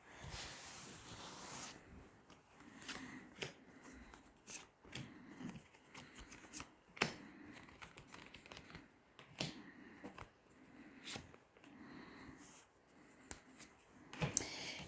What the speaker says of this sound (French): on va tirer 6 cartes.